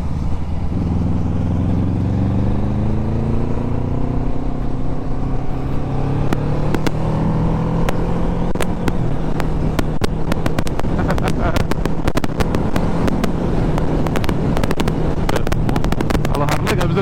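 A QJ Motor SRV 600 V motorcycle, a 2025 model, on a test ride in Indonesia, its engine note rising and falling through revs and quick gear shifts, loud and close under steady wind rush, with sharp crackles building toward the end.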